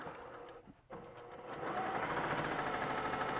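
A sewing machine stitches the side seam of a fabric grocery bag, pausing briefly before running on in a loud, steady, buzzing chatter close by, with no talking.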